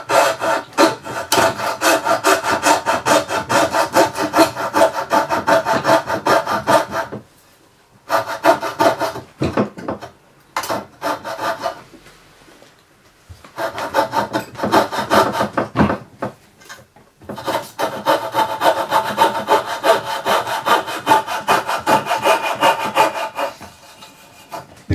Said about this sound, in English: I'm just basically taking a little coping saw and sawing out these